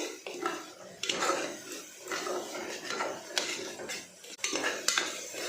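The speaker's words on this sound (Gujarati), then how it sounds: "પેસ્ટને પણ આપણે એકાદ મિનિટ માટે સરસ તેલમાં સાતળવાની છે" Tomato paste is sautéed in oil in a pan for sev usal, with a spoon repeatedly scraping and clattering against the metal pan in an irregular close rhythm.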